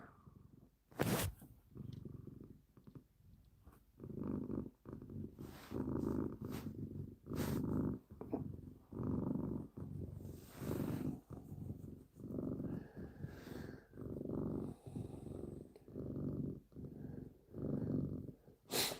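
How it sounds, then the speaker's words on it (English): Rescue cat purring up close in steady rhythmic pulses, each breath cycle a soft rumbling swell, continuing for the whole stretch with a few brief clicks between. "We'll give a little purr here for Maxie."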